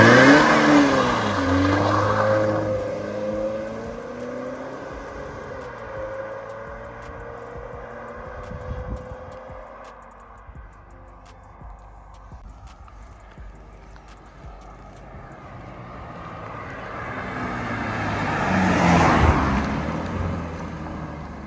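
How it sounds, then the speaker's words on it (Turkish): A BMW E60's engine idles and then revs up. The engine note rises and falls across several swells, steady and close, with no talk over it. "Zincirin değişip değişmediğini zincir sesinden anlayamazsınız."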